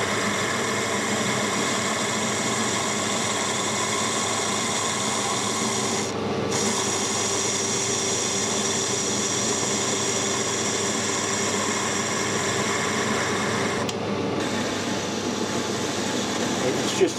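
A metal lathe fitted with a ball turner attachment cuts steel, a steady close rasping, rubbing hiss with a constant hum that runs without a break, with two brief dips in the high end.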